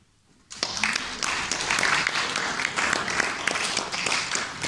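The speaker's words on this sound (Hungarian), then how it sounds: "Köszönjük szépen a tapsot!" Audience applause at a Women's Day celebration in Forráskút, Hungary, bursting in after a brief quiet moment and continuing as dense, steady clapping from a crowd.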